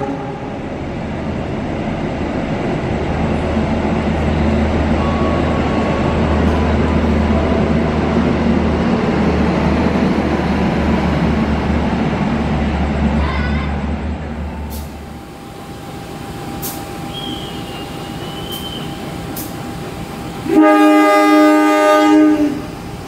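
An Argolawu passenger train speeds through track 1 of a busy Jakarta station with a loud, sustained rumble and rail roar that fades after about fifteen seconds, leaving station ambience. A short, loud horn-like burst follows near the end.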